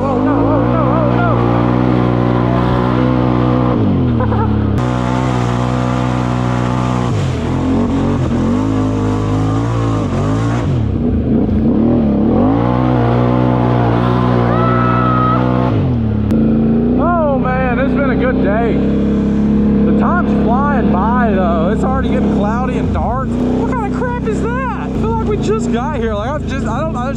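Four-wheeler ATVs revving hard through mud holes, engines loud and close with rising and falling pitch as throttles open, continuous throughout with riders' shouting and talk over the roar.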